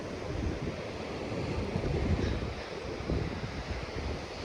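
Wind gusts steadily across an exposed cliff top at Ventnor, a dense, roaring rush that buffets the microphone with low rumbling throughout, loud and continuous with no voices.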